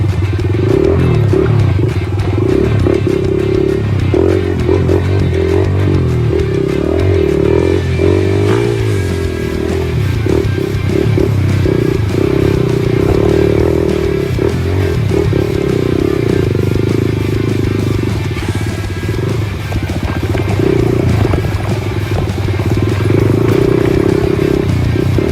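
A motorcycle rides hard at full throttle along a hilly road through the Aceh Besar countryside, its engine roaring loud and close throughout with shifting revs and wind buffeting, no talking.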